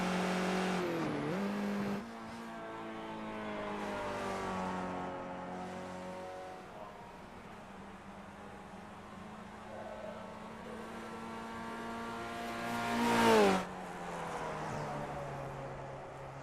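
Skip Barber race car in JPS livery lapping Watkins Glen in a racing video game, its engine droning steadily with pitch rising and falling through gear changes, plus a sharp louder rev swell near the end.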